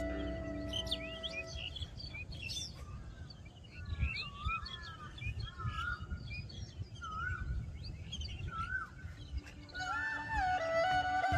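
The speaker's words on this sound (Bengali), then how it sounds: "এই জায়গাটা ফিল করেন পাখির সাউন্ড গুলা" Many birds chirp and sing at dawn in the countryside, varied calls and trills overlapping steadily over a low rumble of background ambience, with a brighter burst of song near the end.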